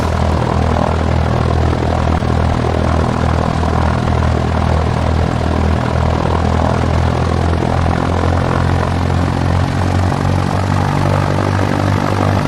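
A propeller aircraft engine in X-Plane 11 drones steadily and loudly during a crosswind landing approach, holding an even, unbroken roar throughout with no voices.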